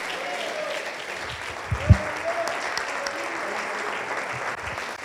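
Sustained applause from a church congregation during a Spanish-language sermon, a steady wash of clapping through the whole stretch with a brief louder thump near the middle and faint voices mixed in.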